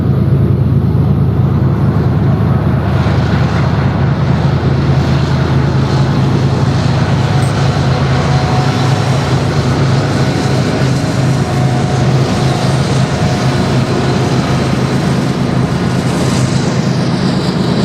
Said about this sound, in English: Look at this train as it goes by.